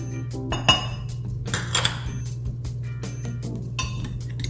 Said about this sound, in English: So I'm just gonna scrape this out first.